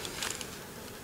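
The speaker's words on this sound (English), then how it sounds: "These flies are annoying." Flies buzzing around outdoors in September while a deer leg is skinned, a steady faint hum with brief louder passes, no talk.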